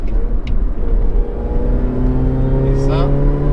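A 2006 Mini R53 John Cooper Works GP with a supercharged engine revs, its tone rising steadily as it climbs, loud and close, with someone talking over it.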